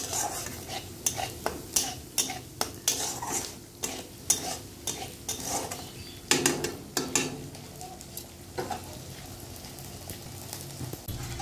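A spatula scraping and stirring poppy seed paste as it fries in a pan, repeated rhythmic scrapes over a soft steady sizzle, close and moderately loud, with no talking.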